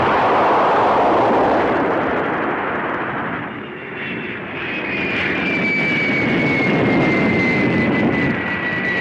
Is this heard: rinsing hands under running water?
no